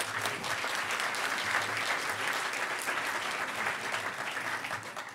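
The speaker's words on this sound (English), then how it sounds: "So everybody give a round of applause to Gus, who's going to be talking about art and the Chiptunes concert." A conference audience at a hacker event's closing ceremony applauds, a dense, steady wash of clapping from many hands lasting several seconds and tapering slightly at the end, with faint crowd murmur beneath.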